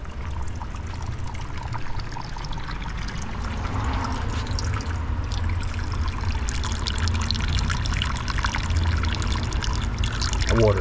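Hot spring water pouring and splashing in Hot Springs, Arkansas, a steady close rush of falling water that runs unbroken the whole time, with a voice briefly heard over it.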